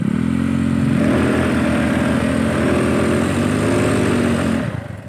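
Yamaha Fino scooter fitted with a 54mm bore kit, revving hard on a dirt trail, its buzzing engine held loud and near for several seconds before dropping off at the end.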